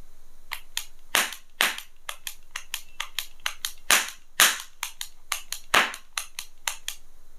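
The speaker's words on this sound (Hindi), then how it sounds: "अब इसके साउंड की टेस्टिंग करते हैं तो सबसे पहले इस माउजर लुक के गन की टेस्टिंग करते हैं" A Mauser-look metal toy cap gun for Diwali fires ring caps in a rapid run of sharp, close cracks, more than twenty shots with a few louder bangs mixed in, alone and without talk.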